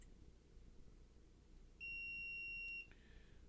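A SUNLU filament connector gives a single steady electronic beep lasting about a second, followed by a brief fainter chirp, clear over a quiet room hiss.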